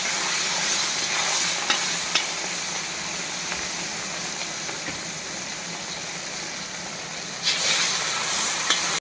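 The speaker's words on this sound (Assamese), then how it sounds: "এতিয়া মই বৰ্তমান মাছ ভাজি আছোঁ।" Rohu fish fries in hot oil with a constant crackling sizzle, punctuated by a few soft stirring clicks over about nine seconds.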